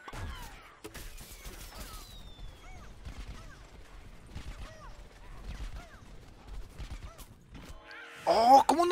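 Gunfire in a Plants vs. Zombies: Garden Warfare 2 multiplayer match crackles as rapid, repeated shots over layered game effects, ending in a louder burst.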